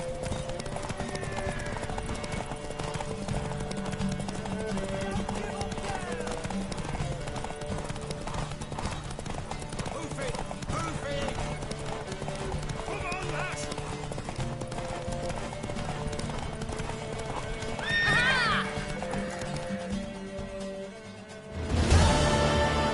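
A horse gallops in a race in The Witcher 3, with rapid steady hoofbeats over a background score, a brief whinny late on and a louder thump at the end.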